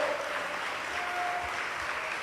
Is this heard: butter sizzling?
no